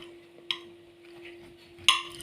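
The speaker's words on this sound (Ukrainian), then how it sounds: "Покажу, типа, що я вмію тут орудувати ножом і виделкою" Fried potatoes and a boiled sausage are cut with a knife and fork on a plate, giving two sharp metallic clinks among soft scraping, with a steady low hum underneath.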